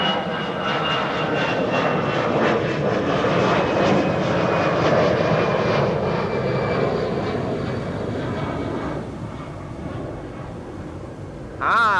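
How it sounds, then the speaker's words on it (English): A NetJets Cessna Citation Latitude business jet arriving at Amsterdam Schiphol, a steady loud engine roar that holds for most of the span, then eases off near the end, with no talk over it. "Cessna citation latitude."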